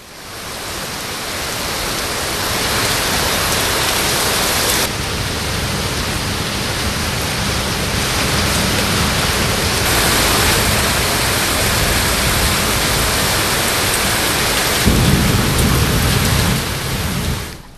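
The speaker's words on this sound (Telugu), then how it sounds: "ఇక విజయవాడలో కూడా కుండపోతగా వర్షం కురుస్తోంది" Torrential downpour in Vijayawada during a thunderstorm, a dense, loud, steady roar of rain hammering surfaces for the whole stretch, with a low rumble of thunder swelling near the end and no voices.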